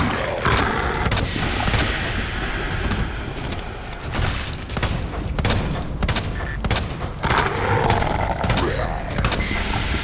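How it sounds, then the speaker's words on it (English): Gunfire from the Resident Evil 2 video game, with rounds unloaded into a wall in a rapid, irregular string of loud, sharp bangs and short gaps between bursts. "let's see how many shots I can unload into the wall"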